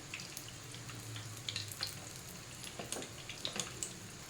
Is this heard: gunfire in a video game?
no